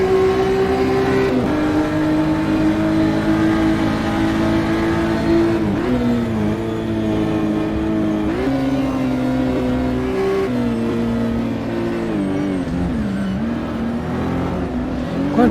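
BMW M2 CS race cars in a sim racing game at Portland rev hard through the gears, a loud, continuous engine whine rising and dropping with each shift, with no talk over it.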